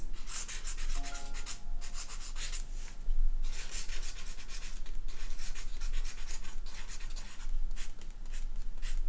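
A pen or brush scratches continuously across a watercolor Christmas card as Merry Christmas is written, a close, quiet, papery rubbing with short strokes and brief pauses, with faint music behind.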